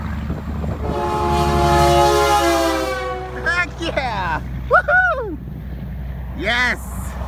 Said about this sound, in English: Train horns all the way!